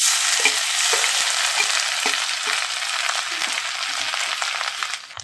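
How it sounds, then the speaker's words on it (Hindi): Cumin and ginger-garlic paste sizzle loudly in hot oil with a bright, hissing crackle. Faint stirring knocks sound underneath, and the sizzle thins out at the very end. "जीरा, अदरक लहसुन का पेस्ट हम डालेंगे"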